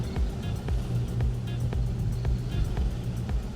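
A 2021 Nissan Rogue with all-wheel drive, stuck and driven hard on the throttle, produces a continuous low engine drone with rhythmic pulsing, loud and close throughout.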